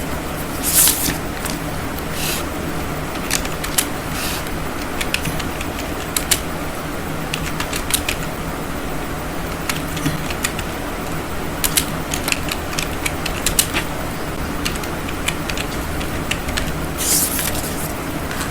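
Steady typing on a computer keyboard, with fast irregular key clicks running continuously for the whole stretch at moderate level and a few louder taps, over a faint constant background hum.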